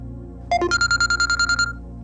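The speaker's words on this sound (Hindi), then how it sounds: "बाहर से फोन है, लगता है" A telephone sounds in a drama scene: a short electronic ringtone of rapid repeated beeping pulses, loud and close over a low background hum, with no talk during it.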